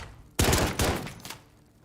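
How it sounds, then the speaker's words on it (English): Gunshots in a Gunfight video game match: three sharp, loud bursts in quick succession, each cracking out and trailing off into a short echo, with no voices. "First thing I heard was gunshots."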